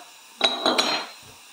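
A spoon tapping and scraping against a bowl while black pepper is added to thinly sliced onion, a few quick light clinks over about half a second, close and fairly quiet.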